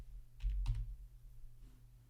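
A few quick keystrokes on a computer keyboard while a database name is typed, clustered in a short burst over a steady low electrical hum in a quiet room.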